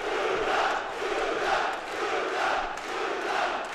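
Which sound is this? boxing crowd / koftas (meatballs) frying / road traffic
boxing crowd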